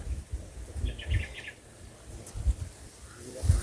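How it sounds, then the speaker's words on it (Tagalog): Crows call faintly among banana trees, a short run of repeated calls in the distance, set against soft rustling and occasional low thumps nearby. "dumami yung mga uwak mga idol"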